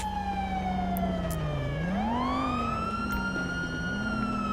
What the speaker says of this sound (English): I can hear the sirens from here.